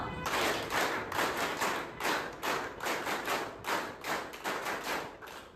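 A group claps together in a steady rhythmic pattern, loud and close. Repeated strong beats fall in groups with a regular pulse throughout, as in a teacher-training clapping activity.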